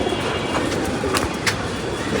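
Pigeons cooing in a loft of tournament racing pigeons, a soft low coo under steady background hum, one brief call standing out near the middle.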